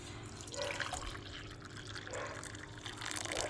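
Hot water for green tea being handled in a home kitchen, with soft trickling and dripping liquid sounds, faint and close, running unevenly throughout with no speech.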